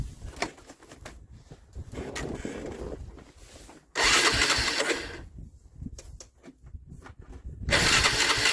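A cheap used ATV is started with its ignition key: bursts of starter cranking and sputtering engine noise come and go in loud, uneven spurts, broken by short quieter gaps.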